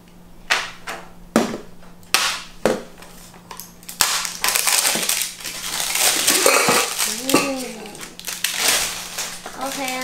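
Cardboard packaging and plastic wrapping crinkle and crunch close up as a box holding a Tefal stainless steel saucepan is opened, with sharp tearing bursts and rustling, and a voice talks at times.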